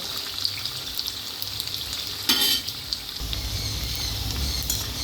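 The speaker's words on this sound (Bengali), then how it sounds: "খুব বেশি কড়া করে ভাজার দরকার নেই পনির হালকা ভাজা হবে" Paneer fries lightly in a pan with a soft, continuous sizzle close by and a brief louder burst partway through, alone without talk.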